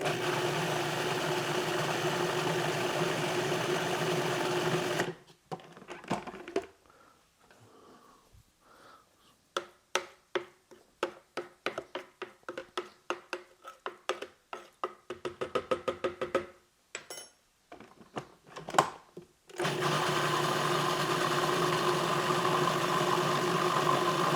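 A blender purees spices, onion, garlic and chilli into a vindaloo paste. A loud, steady whirring runs for several seconds, breaks into choppy stop-start pulses, then resumes as a continuous roar.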